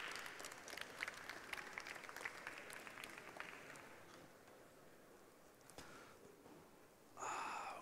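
A crowd claps steadily for several seconds, the applause thinning and fading, then a brief burst of noise at the end.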